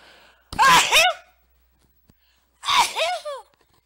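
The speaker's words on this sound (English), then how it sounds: "Hey, goody, you got to hear me sneeze." Two loud, close sneezes from a person in a cold room while playing Resident Evil: Director's Cut, separated by a couple of seconds of near silence.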